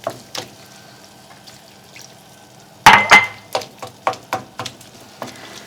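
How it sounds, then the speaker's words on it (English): Water poured into a pan of mince cooking over a gas flame for an Indian high-protein dish, a sudden loud hissing splash followed by a string of sharp sizzling bursts and crackles that gradually settle. "And we're putting a little more water."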